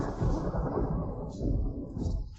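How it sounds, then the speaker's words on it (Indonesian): Thunder gives a deep, sustained rumble that swells and fades twice, heavy low booming filling the moment without voices. "Beneran ada petir."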